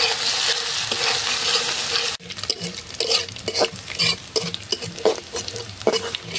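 Chopped garlic and nigella seeds frying in oil in a pan, a loud sizzling hiss that drops back after a couple of seconds into quieter crackle with repeated scraping stirs of a utensil against the pan.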